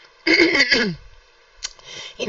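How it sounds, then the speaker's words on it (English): A person clears their throat forcefully, two harsh rasping bursts close to the mic, followed by a shorter throaty sound and a faint breath. "Let me clear my throat a bit."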